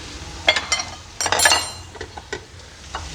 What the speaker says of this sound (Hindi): और इसे अच्छी तरह से मिक्स कर